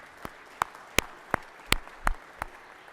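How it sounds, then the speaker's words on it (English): Scattered, isolated handclaps ring out in a Georgia State Senate chamber during a 2024 session, about seven sharp claps spaced unevenly across a few seconds, fairly close with no voices. "y'all give them a big round of applause."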